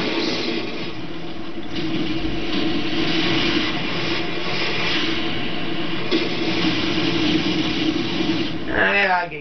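An enemy helicopter in Call of Duty on the Backlot map drones steadily through a deathmatch, a loud, continuous rotor and engine rumble under busy game noise, ending in a brief warbling burst.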